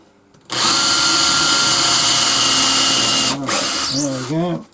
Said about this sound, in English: I can drill the holes out to the right size